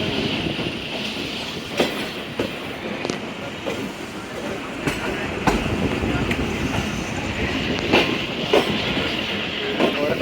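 Khyber Mail passenger train rolling through the night near Attock station, a steady broadband rumble with intermittent clicks and clacks of wheels over rail joints, continuous and fairly loud throughout.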